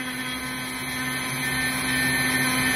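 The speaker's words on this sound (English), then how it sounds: "I'm trying not to let the drill sit in any given place for too long here" A power drill boring into a plastic part, running as a steady whining hum with a faint rising buzz throughout, close and continuous with no talking.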